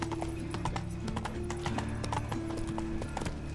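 A horse trotting in The Witcher 3, rapid rhythmic clip-clop hoofbeats layered over a droning in-game musical backdrop, with the steps continuous and moderately loud throughout.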